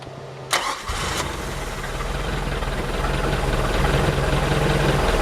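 A Mercury engine on a Bayliner boat cranks and catches, then settles into a steady rumbling idle that grows slightly louder, close by with no talk.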